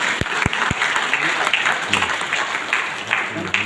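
Audience applause at a DXN business talk, dense steady clapping filling a hall with a few sharp nearby claps at the start.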